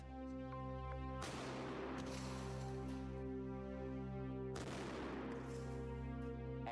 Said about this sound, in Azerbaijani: məsafədən güclü silahdan atəş açılır